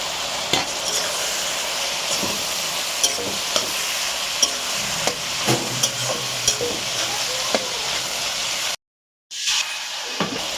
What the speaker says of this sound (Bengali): এটা আরেকটু ভাজা হবে